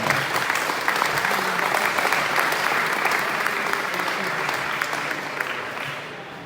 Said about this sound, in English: A big applause for Flight Basket.